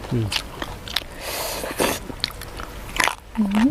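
Someone eats crunchy som tam papaya salad with fried salmon belly, with loud close bites and crunchy chewing in bursts while a voice speaks between mouthfuls.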